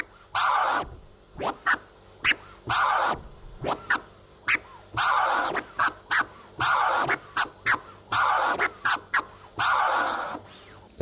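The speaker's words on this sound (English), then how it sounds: "Now if you throw the stab just before that original flare," Vinyl on a turntable is cut with repeated DJ scratches, a stab thrown just before an original flare, the patterned bursts cycling rhythmically and loud without a beat or voices.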